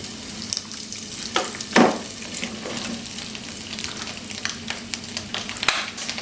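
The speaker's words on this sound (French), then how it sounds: "Je vais commencer par mettre un fond d'huile d'olive et je vais faire revenir mon tofu, mes champignons" Tofu and mushrooms sizzle in a pan of olive oil, a steady close frying hiss broken by scattered pops and a few stirring scrapes, with no talking.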